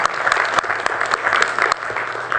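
Applause from the audience at a Palo Alto city council meeting, many people clapping in a steady patter with a few sharper individual claps standing out, fairly close and without voices on top.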